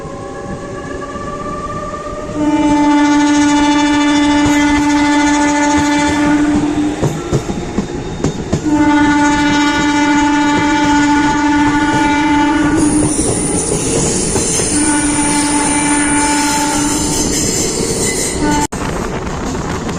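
A luxury steam heritage train running from Ahmedabad toward the Statue of Unity sounds long, tonal horn blasts three times over a loud, steady rumble of rolling wheels and carriages.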